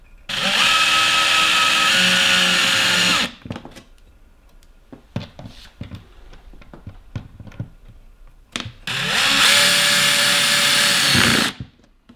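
A power driver drives screws to mount a Toucan outdoor security camera: two loud sustained whirring bursts of about three seconds each, with quieter handling clicks and taps in between.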